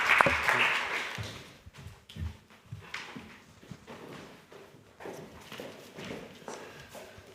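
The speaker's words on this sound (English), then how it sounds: "I suggest you give our panelists a round of applause for their excellent contributions." A conference audience in Brussels applauds the panelists at an EU-Norway energy event, with steady, moderately distant clapping that swells at the start and then continues more softly throughout.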